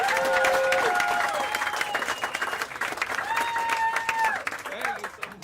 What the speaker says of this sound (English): Start clapping right now for Tyler Horvath